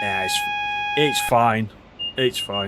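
Vigilance alarm in a Train Simulator Classic cab on an East Coast Main Line run, a steady high electronic tone held through the first part, heard under loud close talk.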